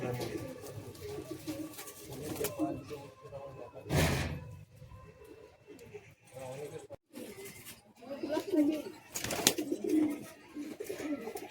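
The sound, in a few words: pigeons cooing in loft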